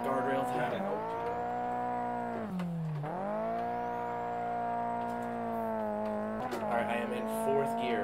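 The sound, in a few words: racing game car engine bogging in third gear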